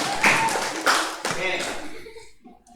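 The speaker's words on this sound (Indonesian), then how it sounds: "Ayo, tepuk tangan buat kelompok 1." In a classroom, children clap for a group of pupils called to the front, brief loud bursts of clapping mixed with a voice speaking, fading to quiet at the end.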